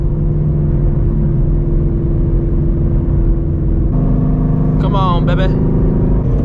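A 520HP Shelby GT350 Mustang engine roars loud and steady during a hard pull, a sustained close drone that climbs slightly near the end, with someone speaking over it.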